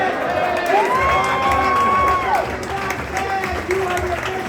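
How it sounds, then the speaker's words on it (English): An audience applauds and cheers for a girl who has just won a stage game, a steady wash of clapping and crowd noise with a sustained tone rising over it and voices mixed in. "Everybody give her a round of applause"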